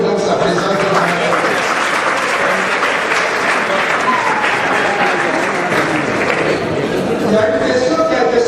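Sustained applause from a large crowd, steady and dense throughout, with a few voices audible underneath.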